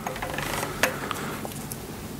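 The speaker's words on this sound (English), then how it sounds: "We need to torque these up between 65 and 70 foot pounds onto there." Torque wrench tightening bolts on a Ferguson 23c tractor engine, faint ratcheting clicks and metallic mechanism noise with one sharper click, quiet and close, no talk.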